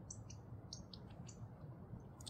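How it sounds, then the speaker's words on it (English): Quail chirping outdoors: several short, high chirps spaced across the moment, faint over a steady low rumbling background with no talk. "There are a bunch of quail over there."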